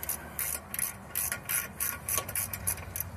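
Ratchet tightening bolts on a Hyundai Sonata CV axle during replacement, about ten quick close metallic clicking bursts in a steady rhythm, with no talk.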